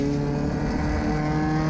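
A mini stock race car laps an oval track at Riverhead, its engine a steady, loud drone with dense harmonics and no break. No one speaks over it.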